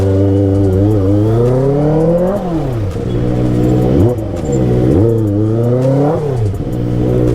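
A Kawasaki ZX motorcycle engine revs repeatedly in stalled traffic, loud and close, its pitch climbing and dropping in several sharp blips over a steady idle.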